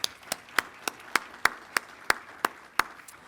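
Single person clapping slowly and evenly at a heavy equipment commencement ceremony, about eleven sharp claps in a steady rhythm, fairly faint, with no talking over them.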